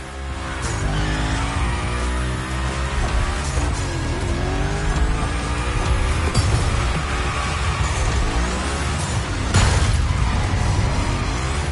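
Car engine roars continuously while tires squeal through long drifting slides in a gymkhana run in The Crew Motorfest racing game, loud and close with steady revving and skidding throughout.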